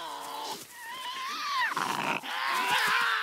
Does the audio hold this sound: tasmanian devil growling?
yes